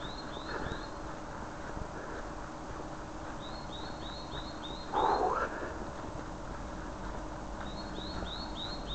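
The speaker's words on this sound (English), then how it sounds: "Hear that bird song?" A small bird sings repeated short chirping phrases in bursts along an outdoor path, faint against a steady ambient background, with a louder brief call midway.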